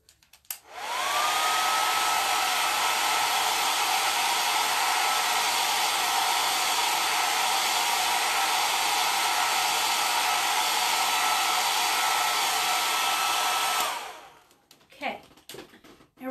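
A handheld dryer blowing steadily to dry a chalk transfer on a Valentine craft, a loud continuous close whir that starts up, runs for about thirteen seconds and cuts off, followed by a few light taps.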